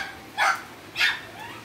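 A distressed dog gives two short yelping cries, fairly faint and set apart, in a quiet outdoor setting on a rainy morning.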